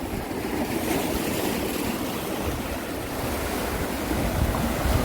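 Sea waves break and wash over low rocks along a rocky shore where people fish, a continuous loud roar of surf with wind buffeting the microphone.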